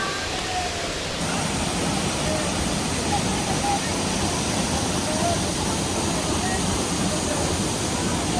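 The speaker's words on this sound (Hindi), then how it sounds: "जो मुख्य शिवलिंग है वो यहाँ पर है जहाँ ये पानी गिर रहा है" Water of the Bhima river pours continuously over the shivling at Gupt Bhimashankar in Maharashtra, a dense, steady roar of falling water that fills the whole stretch, loud and close.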